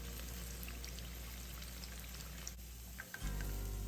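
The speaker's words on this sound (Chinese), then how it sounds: "在所有豆腐油炸至金黃色後， 就可離火。" Tofu deep-frying in oil kept on high heat, giving a steady close sizzle and bubbling with faint crackles that cuts off briefly near the end before resuming.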